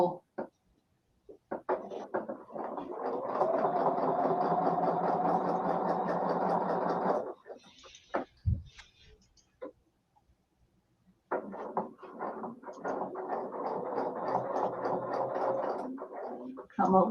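A sewing machine stitches with a presser foot during quilting template work: two long bursts of steady, buzzing motor whir, separated by a quiet pause with a few light mechanical clicks.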